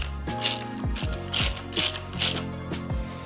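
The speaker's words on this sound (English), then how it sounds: "We're just gonna snug this down." A ratchet snugging down a bolt on motorcycle handguards of a Honda CRF450R supermoto, a close run of rapid clicking pawl strokes in several back-and-forth swings.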